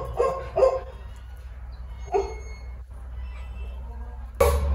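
A dog barks in short bursts indoors at home, two quick barks at the start, another about two seconds later and a final one near the end, over a steady low hum.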